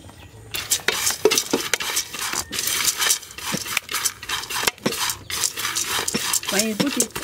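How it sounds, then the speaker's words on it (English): A spoon stirs akatua soup in a pot over an outdoor village fire, repeated scraping and clinking strokes against the metal in an uneven rhythm, close and fairly loud, with faint sizzling beneath. "You have to keep by and then stirring it."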